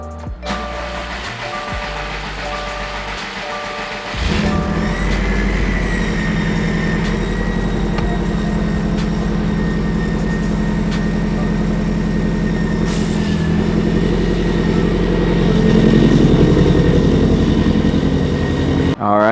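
A Subaru STI engine cranks and starts after a battery mount install, a brief starter whir followed by a steady idle with a whining tone that holds loud and close, rising slightly near the end.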